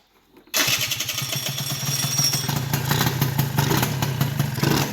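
A Honda Elite scooter engine with a newly installed stator cranks and catches abruptly, then runs with a loud, rough, pulsing idle and clattering mechanical noise close to the microphone.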